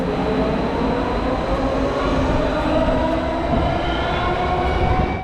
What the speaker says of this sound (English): Another westbound train arrives and I step on board.